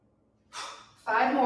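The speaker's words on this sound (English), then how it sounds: "Exhale." A sharp, forceful breath out during a kettlebell long cycle workout, a brief breathy rush followed by a louder, stronger push of air, close and alone.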